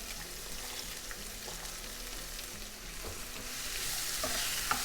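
Onion frying in a pan for a spicy dudhi (bottle gourd) side dish, a soft, steady sizzle and hiss that grows slightly brighter toward the end, close but quiet, with no talking.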